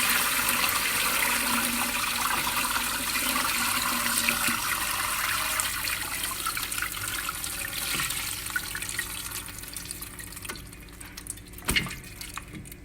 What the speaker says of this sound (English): we're just going to pour the bone broth out and save the broth